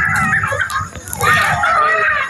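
Children screaming at a park with a long slide, shrill high-pitched shrieks rising and falling over a couple of seconds, close and loud, mixed with some children's voices.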